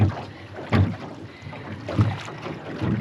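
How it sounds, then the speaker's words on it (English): Oars of a rowboat pull through water in a slow rhythmic pattern, each stroke a soft whooshing splash, with wind noise rumbling over the microphone. "But now I will row the boat."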